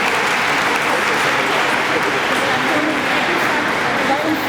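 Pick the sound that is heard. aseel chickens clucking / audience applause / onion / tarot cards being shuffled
audience applause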